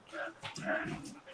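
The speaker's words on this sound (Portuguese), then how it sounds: "Os cachorrinhos chegaram." Small dogs arriving indoors, giving a few short yips and whiny whimpers in quick succession, fairly faint and close, with a voice talking alongside.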